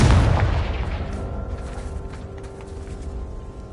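A Confringo blast spell goes off in Hogwarts Legacy with a heavy explosive boom and a deep rumble. A long, fading ringing tail follows, with faint crackles as the echo decays.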